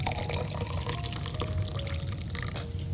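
Warm water poured into a cup, a continuous splashing trickle with bright liquid spatter lasting a few seconds, close and moderately loud with no talk over it.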